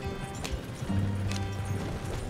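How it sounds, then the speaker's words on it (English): Several horses galloping in Red Dead Redemption 2, a steady run of hoofbeats with low rumbling underneath, sounding close and continuous at moderate volume with no talk over it. "Come on, go faster, horses."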